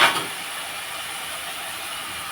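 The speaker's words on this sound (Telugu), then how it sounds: "ఇదిగోండి ఉల్లిపాయ చూడండి బాగా వేగుతుంది కదా" Onions frying in a pan on a home stove for a drumstick curry, a steady close hiss of sizzling oil that starts with a brief louder burst and then holds even.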